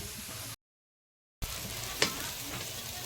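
Spices frying in oil, Kashmiri chilli powder among them, are stirred at an outdoor picnic. A close sizzle is cut by a short silent gap, then one sharp scrape of the spoon, with no one speaking.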